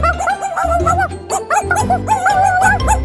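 A toy robot dog and a real dog making yipping, whimpering bark-like sounds in a rapid series, close and fairly loud, over a steady background of music.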